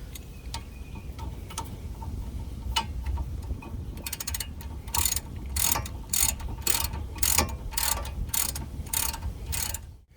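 A hand ratchet clicks as it tightens Honda brake caliper bolts, starting with slow scattered ticks and building into a fast, steady run of loud close strokes, with no talking.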